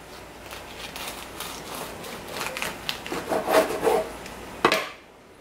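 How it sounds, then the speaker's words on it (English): A knife sawing through a freshly baked loaf of bread just out of the oven, a soft rasping back-and-forth scraping that builds to a few louder crunchy strokes before stopping. "I'm going to cut this on this side here"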